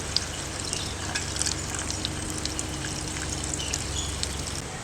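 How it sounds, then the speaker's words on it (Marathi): Water pours steadily into a pot for sambar, a continuous rushing trickle with no talking, holding an even level throughout. "मी इथे साधारण एक 3 ते 4 मोठे बाउल भरून पाणी घालणार आहे."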